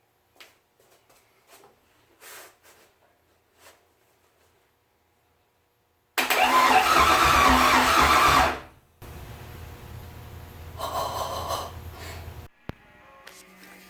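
The starter of a race car turns over for the first time, a loud whirring grind lasting a couple of seconds, after which fans and electrical whine hum along, with quiet clicks and noises before it.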